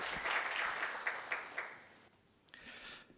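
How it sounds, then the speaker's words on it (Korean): A moderate round of applause from a peace forum audience, steady at first and then fading away into near quiet, with a few stray claps at the end. "give a big hand"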